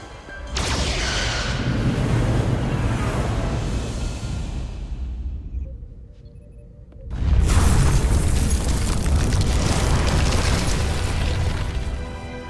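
Starship weapons fire and booming explosions fill a space battle in the Star Trek Resurgence game, two long roaring blasts separated by a brief lull, loud and close.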